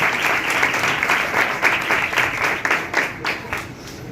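A church congregation gathered for a Pentecost (Eid e Pentecost) service bursts into loud, sustained applause to welcome the senior pastor, dense clapping filling the hall with a few louder surges and no voices rising above it.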